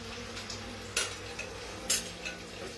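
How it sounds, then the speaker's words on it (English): Tomatoes tumble into a pan of garlic and get stirred, with a soft background sizzle and two sharper clinks of a utensil against the pan. "So now what we're going to do is we're going to add the tomatoes"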